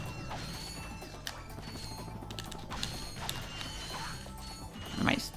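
Wrench melee kill in the Ratchet & Clank game at a logging site, metallic clanks and a heavy smash over a continuous dense game soundscape, with a sharper impact near the end.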